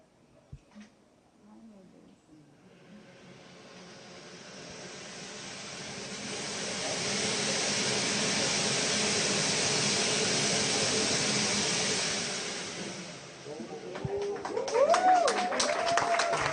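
A small Brazilian launch-vehicle rocket engine ignites and builds to a loud, sustained roaring hiss that holds steady, then fades into crowd cheering and applause.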